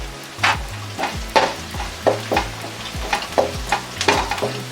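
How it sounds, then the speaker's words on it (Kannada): Curry leaves dropped into hot oil for mango rice sizzle steadily, with rhythmic stirring scrapes of a spoon against the pan recurring about every half second, close and fairly loud with no talking. "ಇದಕ್ಕೇ ಸ್ವಲ್ಪ ಕರ್ಬೇವಿನ ಸೊಪ್ಪು ಹಾಕೋತಾ ಇದ್ದೀನಿ"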